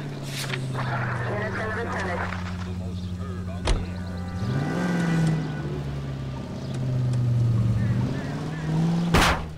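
A beat cop's car driving in the video game LA Noire, its engine droning steadily and rising and falling in pitch as it accelerates, with people talking over it and a sharp bang near the end.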